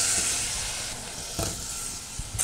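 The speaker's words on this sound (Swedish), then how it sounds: "Nu håller jag på att fräsa på löken och äpplena lite grann" Onions and apples frying in melted butter in a pot give a faint, steady sizzle and hiss, with a few soft clicks of stirring.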